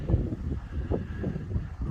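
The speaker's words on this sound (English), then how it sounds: "you probably can't even hear me because it's quite windy" Strong wind on an open hillside while hiking to abandoned mines, buffeting the microphone in low rumbling gusts that pulse and swell in waves.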